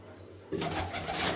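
A crowded flock of kept pigeons breaks into close, low cooing after a brief quiet moment, the burbling calls rising and holding to the end.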